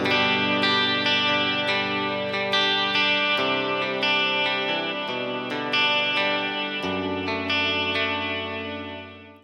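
An electric guitar played through a multi-effects pedal with delay and reverb set for a worship-style tone: sustained ringing notes and chords, each washing into long echoing tails that fade out at the end.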